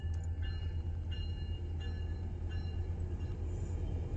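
A Tri-Rail commuter train rumbles steadily nearby, a continuous low drone of rolling rail cars with faint higher tones drifting over it, no voices.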